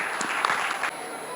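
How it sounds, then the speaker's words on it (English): Clapping from the audience after a children's stage performance at a Montessori school annual day, a brief, fairly soft burst of crowd applause with some background voices. "Let's give them a big round of applause."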